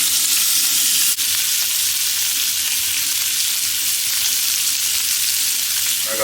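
Lamb chops sizzle steadily in a hot pan, a loud, dense frying hiss running unbroken with one brief click near the start and no voices.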